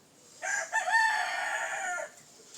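A rooster crows once, a loud, close cock-a-doodle-doo lasting well over a second against a quiet background.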